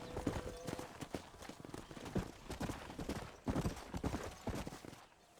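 Horse hooves clip-clop steadily at a ranch stable in the Red Dead Redemption video game, a continuous quiet rhythm of hoofbeats with no talking.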